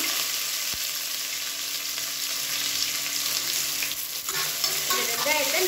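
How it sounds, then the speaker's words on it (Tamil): Sliced onions and curry leaves sauté in oil, making a dense, steady sizzle with soft stirring scrapes, close and even throughout. "இந்த வெங்காயத்தை நல்லா வதக்கி விட்டுக்கலாம்."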